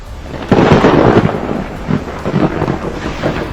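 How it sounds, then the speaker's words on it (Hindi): Heavy thunder from a lightning strike in Solan, Himachal Pradesh: a loud, close, sustained rumble that swells suddenly and then rolls on with uneven surges over a rainy, stormy background. "ये बिजली बीती रात हिमाचल के सोलन में गिरी"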